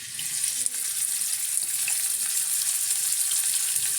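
White onion hitting hot cooking oil in a pan, a loud, dense, continuous sizzle heard close up with faint crackles and no voices.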